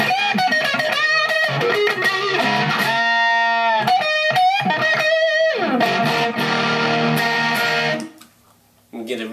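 A custom Fender Stratocaster electric guitar with a little distortion plays bluesy single-note runs, bends and chords, loud and close, before cutting off near the end.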